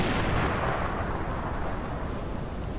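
A single loud gunshot from a gun in a Minecraft guns mod, a dense broadband blast with rumbling low end that holds steady for nearly three seconds without talk.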